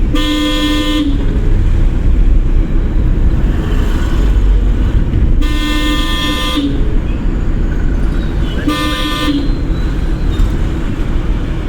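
Three loud car horn blasts during a driving lesson, each about a second long, sounding over the steady rumble of traffic and a running engine.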